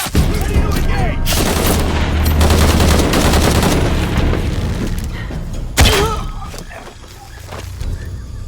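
Sustained heavy gunfire from the video game Shadow of the Tomb Raider: dense, continuous shooting with booming impacts and one sharp louder blast near the end, under faint game voices.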